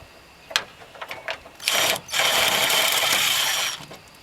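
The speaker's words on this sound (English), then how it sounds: "I'm just going to be using a drill" A few light clicks and taps, then two bursts of a power drill driving screws into a hood strut bracket on a Jeep Cherokee XJ, whirring loudly at close range, the second longer than the first.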